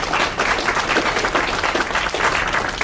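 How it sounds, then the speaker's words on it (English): An audience at a city's State of the City address claps steadily, a dense, loud, even burst of applause throughout with no voices over it. "So I think that is another area that we can round of applause for those grants that we get."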